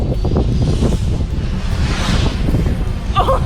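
Steady wind noise rumbles and buffets against the microphone throughout, loud and continuous, with a brief brighter rustle near the end.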